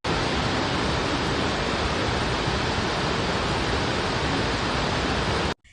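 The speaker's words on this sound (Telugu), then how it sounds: "లిటరల్లీ ఎక్కడ చూసినా వాటర్ ఫాల్సే." Loud, steady roar of a waterfall in Meghalaya during the monsoon, broadband rushing water filling the scene continuously until it cuts off abruptly near the end.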